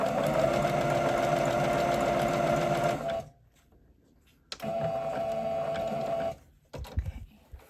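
A sewing machine stitches along a hem on a pair of leggings, running in a steady whirring burst, pausing briefly, then running again for the back stitch before stopping.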